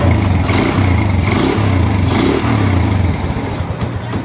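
A motorcycle engine, freshly repaired with a new block set and valve seals, runs close and loud, pulsing through several rhythmic revs before easing off toward the end.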